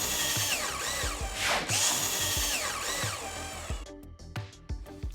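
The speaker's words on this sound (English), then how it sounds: "With our cordless drill, you see that was really nice and simple." Whirring cordless drill driving screws to mount bathroom blinds, revving in short bursts with rising and falling pitch, then several clicks and knocks as it stops, close up.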